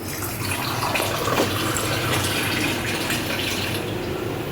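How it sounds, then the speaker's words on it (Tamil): Water from a large tumbler is poured into rasam in a village-style kitchen, a continuous close splashing gush that runs steadily for several seconds with no talk. "ஒரு பெரிய டம்ளர் அளவு தண்ணி சேர்த்துக்கிறோம்."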